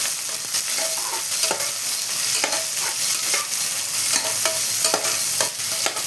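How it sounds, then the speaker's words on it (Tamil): Three long-sliced onions fry in a pressure cooker for chicken pulao, a steady sizzle broken by regular scraping stirs of a spoon against the pot, close and clear with no voices. "3 வெங்காயம் நீல வாக்கில் கட் பண்ணி வச்சுருந்த வெங்காயத்தை போடுறேன்."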